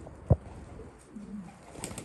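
Syrian pigeons coo softly in a loft, a low burbling call rising in the middle, with a sharp thump of wings or movement early on and faint bird chatter in the background.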